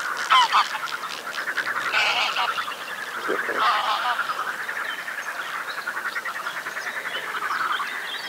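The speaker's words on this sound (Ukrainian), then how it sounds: "Полетіла гуска." A goose takes off from a lake, giving a run of repeated, fairly close honking calls. Other waterfowl croak and chatter around it, and a faint voice is heard in the background.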